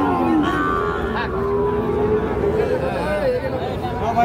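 Sahiwal bull calves low and moo amid the busy chatter of a crowded outdoor cattle market, with overlapping voices and livestock calls mixed together at close range.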